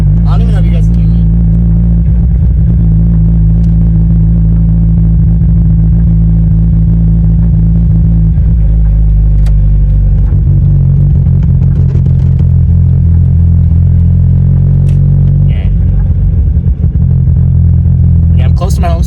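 Mazda Miata engine droning loudly while driving, a deep steady rumble with a few shifts in pitch as revs change, a voice speaking faintly over it at moments.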